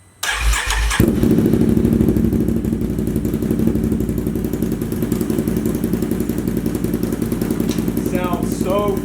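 Straight-piped 2019 Can-Am Renegade 1000 ATV engine starts with a sharp bark, then settles into a loud, steady, raspy idle nearby, with a few faint background sounds near the end.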